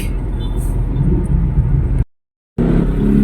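Dense road traffic rolls past near a U-turn on EDSA in the Philippines, a continuous close rumble of car and bus engines that cuts out briefly, then resumes just as loud.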